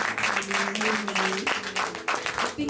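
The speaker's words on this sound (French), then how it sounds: "Can we give God a hand clap of praise?" A church congregation claps together in praise during a bishop's visitation service, with rhythmic hand claps and a sustained tone underneath, fairly loud and close.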